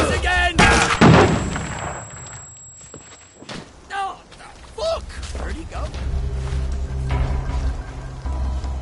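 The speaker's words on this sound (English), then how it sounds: "They're bombing us again!" Bombing in the game We Happy Few: a heavy impact and rumbling blast opens the scene, followed by scattered bangs, creaks, footsteps and a low continuous rumble, with voices speaking intermittently.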